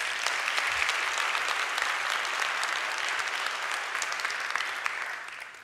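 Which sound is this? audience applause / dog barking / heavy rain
audience applause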